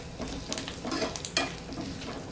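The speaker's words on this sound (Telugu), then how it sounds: "ఇవి మంచిగా ఫ్రై అయిన తర్వాత మనం ఇలా పప్పుచారులో వేసేసుకోవడమే ఈ పోపుని" Tempering spices fry in hot oil for pappu charu, sizzling and crackling up close while a utensil stirs them in a few short scraping bursts.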